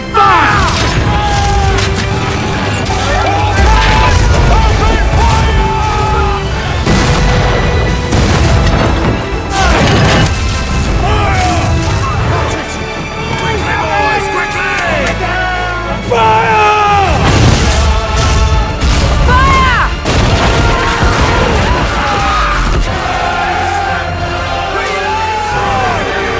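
Naval battle scene from a pirate TV drama with repeated heavy cannon booms and crashes over a dense, loud orchestral score, with shouting crew voices breaking through the mix.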